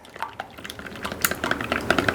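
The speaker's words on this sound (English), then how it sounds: "So we're going to whisk this together." A whisk beats four whole eggs with sugar and lemon juice for lemon curd in a bowl. The close, quick, irregular clicking and wet sloshing build steadily in pace, with no talking.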